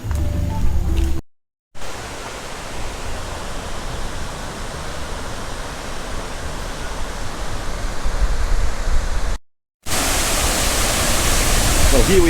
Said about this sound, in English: here we are at Tad Yuang waterfall on the Balaban plateau, not far from Pakse.